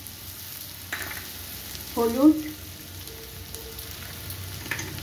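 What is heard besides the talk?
garlic and onion frying in pan with spices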